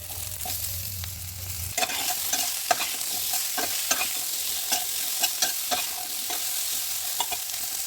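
Potatoes frying in a pan with asafoetida, turmeric and salt, a steady close sizzle with scraping stirs at irregular intervals, no talk.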